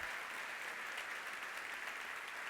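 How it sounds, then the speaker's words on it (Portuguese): A church congregation claps during a sermon, a faint, steady wash of applause heard from a distance with no speech over it, lasting a couple of seconds. "Aplauda ele."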